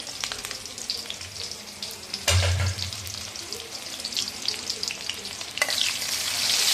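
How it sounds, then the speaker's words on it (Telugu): Oil sizzles and crackles in a pan as onion, garlic and whole spices fry, with a burst of louder frying and stirring clatter as food is added, close and continuous. "బాగా ఫ్రై అయ్యేదాకా వేసుకున్నాను"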